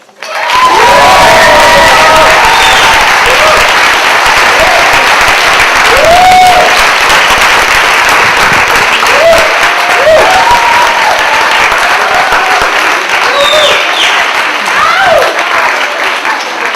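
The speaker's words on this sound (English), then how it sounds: "give a big round of applause for Jefferson Smith" A large audience breaks into loud, sustained applause and cheering for Jefferson Smith, with whoops and shouts rising over the dense clapping, which stays full and close throughout before easing slightly at the end.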